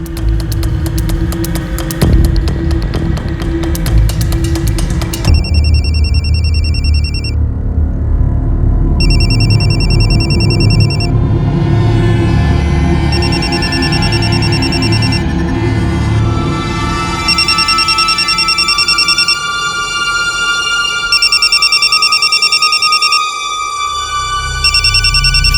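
A telephone rings late at night in a dramatized Delhi crime-series scene, a steady electronic ringtone repeating in bursts over a low hum and background music, with no talking.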